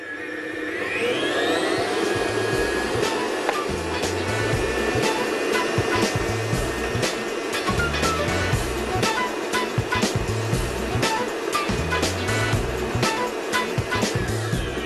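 A milk separator machine processing 5 liters of milk whirs loudly and steadily as it spins up, a continuous motor hum with rising whine and irregular rattling clicks throughout.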